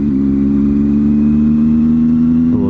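Triumph Tiger motorcycle engine short shifting on a cold, wet commute road, a steady loud mid-pitched engine drone that holds nearly constant before a brief change in tone near the end.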